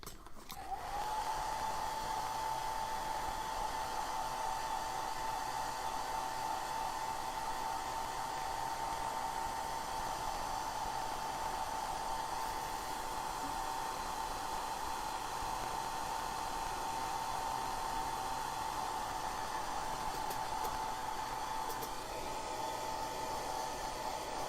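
A hair dryer blows continuously at close range to dry a layer of cupcake decoration, a steady whooshing hum with a faint whine that runs almost the whole time, then shuts off near the end.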